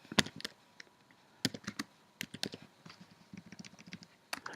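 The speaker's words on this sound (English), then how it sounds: "It's like I'm typing with one hand." Keys clatter on a computer keyboard in irregular bursts of close, crisp taps with short pauses between.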